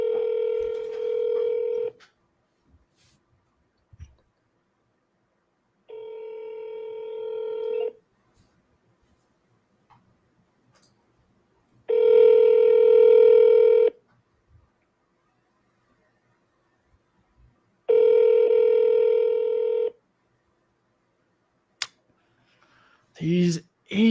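A telephone dials out, giving four long, steady electronic tones separated by gaps, followed by a short burst of higher clicks and beeps at the end.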